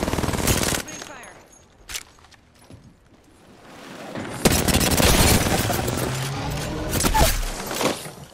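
Bursts of rapid automatic gunfire and booms in a battle royale shooter video game, loud volleys separated by short quiet gaps, with a player's voice at times.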